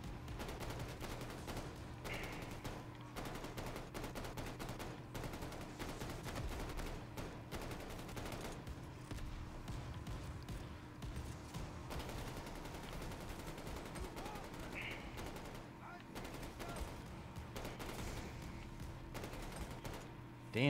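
Rapid machine gun fire in Call of Duty Vanguard Zombies, dense sustained bursts of shots running almost continuously for about twenty seconds over steady game background noise, fairly loud and close.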